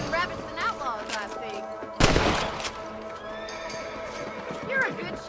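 Horses whinny repeatedly in Red Dead Redemption, shrill neighs rising and falling near and far, with hoof clops, a sudden gunshot-like bang and a voice talking over it.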